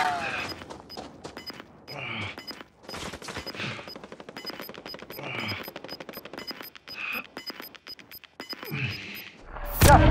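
Gunfire in the video game Call of Duty Warzone, with sustained automatic weapon bursts and scattered single shots rattling steadily, close and loud, joined by occasional thumps and brief spoken callouts, ending in a heavy boom.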